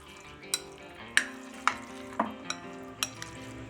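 Half a cup of yogurt is stirred into a dish with a spoon, giving several distinct scraping clinks against the vessel at an uneven pace, close and fairly quiet, with no talking.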